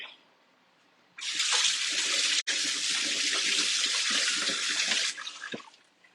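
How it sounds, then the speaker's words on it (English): A kitchen tap runs steadily at close range while hands are washed beneath it, a loud broadband gush lasting about four seconds with one brief break, then fading to faint trickles and drips. "Did a lot of washing of hands today"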